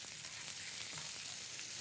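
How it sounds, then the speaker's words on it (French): A dish simmering in a pan, giving a faint, even hiss of gentle bubbling and sizzle, steady throughout with no talk. "On laisse un petit peu mijoter."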